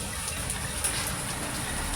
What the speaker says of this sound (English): still hail coming